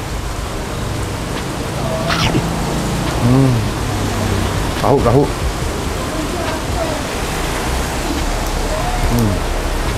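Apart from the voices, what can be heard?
rain falling outside a food stall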